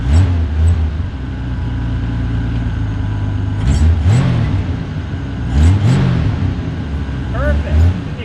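A 1965 Ford Econoline van, a rare Bell Telephone unit stored for years, idles then revs repeatedly in a few sharp bursts, the engine note rising and falling close by.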